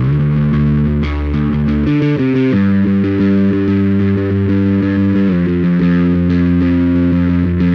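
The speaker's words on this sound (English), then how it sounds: "a fuzz pedal, such as the iconic Electro-Harmonics Big Muff, takes this to the extreme, using square wave clipping to heavily saturate and compress your signal" Bass guitar played through an Electro-Harmonix Big Muff fuzz pedal, its tone heavily saturated and compressed by square-wave clipping. Sustained, thick distorted notes shift pitch a few times and ring loud and continuous throughout, with no voices.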